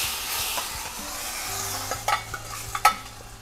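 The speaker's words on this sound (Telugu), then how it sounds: "మా శివ వచ్చే వరకు ఆ తాలింపు కదిలిచ్చారు" A tempering of spices for a curry is stirred in a pan, giving a soft sizzle with scraping strokes and a few sharp clinks of a spoon against the metal, close by and with no voices.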